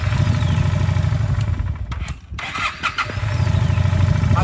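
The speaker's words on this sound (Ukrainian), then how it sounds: "Спробуй зараз трішки дати газку і завести." A Honda Shadow 400 Classic motorcycle with 43,000 km on it cranks and starts up loud and close, its engine chugging unevenly through a brief stumble before rumbling steadily again.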